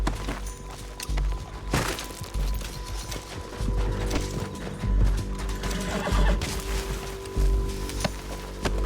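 Horse hooves clatter amid busy Red Dead Redemption 2 game noise, with a whinny rising over mechanical rattling and ratcheting sounds.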